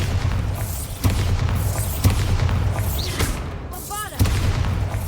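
In the Hogwarts Legacy video game, a Bombarda explosion spell fires in repeated heavy booms with sharp cracks about a second apart, loud and close, over continuous low rumbling from the game. A player speaks over it.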